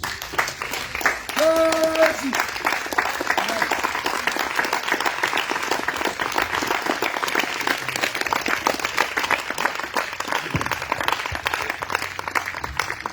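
A church congregation at an intense healing prayer night applauds and cheers for Jesus Christ, dense sustained clapping filling the room at a steady loud level throughout, with voices mixed into the crowd noise.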